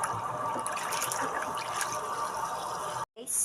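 Running water rinses a large batch of chicken feet soaked in salt water, a steady close splashing trickle for about three seconds before a brief cut.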